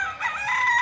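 A gamefowl rooster crows once, close and loud, a short strained call from a farm with caged birds.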